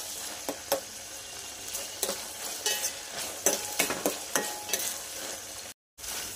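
Washed dried shrimp fry in oil for a shrimp curry, with a steady sizzle and intermittent stirring scrapes and taps. The sound is close and continuous, with no talk.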